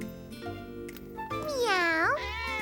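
A cartoon character's voice imitates a cat with a drawn-out meow that slides up and down in pitch, following a few shorter vocal sounds, close and clear.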